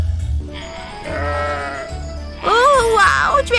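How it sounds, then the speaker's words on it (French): A cartoon sheep bleats twice in a long, wavering cry, the second bleat louder and shakier, heard close over a low background rumble. "tu es le plus joli mouton que je n'ai jamais vu"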